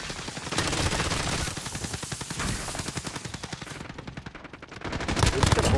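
Rapid, sustained automatic gunfire in a Call of Duty Shipment match, with bursts of loud close shots running almost continuously and a heavier flurry at the end.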